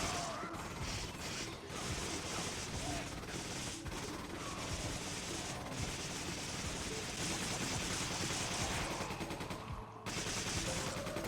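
An MP5 submachine gun fires in Resident Evil 5, rapid continuous bursts of gunfire with mechanical clatter running almost unbroken through the clip, layered with game effects and only brief pauses.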